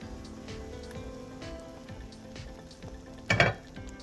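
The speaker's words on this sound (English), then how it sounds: "looks like everything is boiling pretty good" A pot of chicken and rice bubbles and simmers at a steady low level, with a brief louder clatter or splash near the end.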